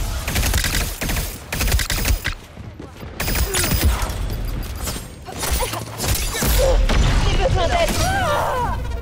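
A fragmentation grenade blast amid a Concord shooter match on PS5, heard among bursts of rapid gunfire, mechanical clatter and booming impacts, with someone talking over the action.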